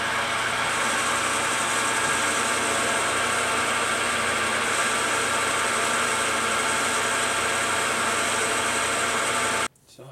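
A metal lathe turns an aluminum pulley under automatic feed at 725 RPM, producing a steady, dense whirring and cutting hiss that holds evenly for nearly ten seconds before stopping abruptly.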